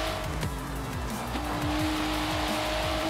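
A car in Forza Horizon 3 drives with a loud, continuous engine note, its pitch climbing and dropping through gear changes while the tires squeal throughout.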